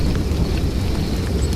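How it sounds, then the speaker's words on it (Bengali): Thunderstorm with heavy rain as an effect in a Bengali village horror drama, a dense, loud rumble and rain wash filling the brief moment with no voices. "এত জোরে ঝড়!"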